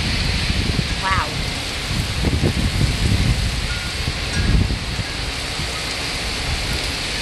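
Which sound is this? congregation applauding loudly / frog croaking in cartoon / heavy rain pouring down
heavy rain pouring down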